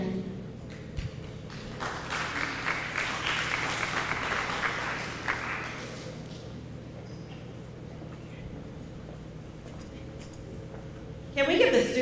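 School audience at a leadership day applauding, a dense patter of clapping hands at moderate distance that swells and then fades into quieter room noise.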